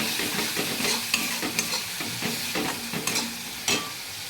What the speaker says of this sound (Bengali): মশলাটা আমাদের কষানো হয়ে এসছে, আর একটু তেল বেরিয়ে যাক